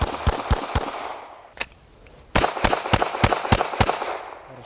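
Gunshots ring out in a practical shooting drill, a rapid burst of four sharp reports, a lone shot, then a quick string of six, loud with echoing decay outdoors.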